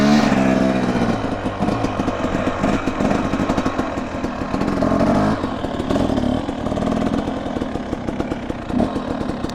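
A motorcycle engine revving and chugging during a slow wheelie pass, loud and close, with uneven throttle pulses and rhythmic popping, no talk heard.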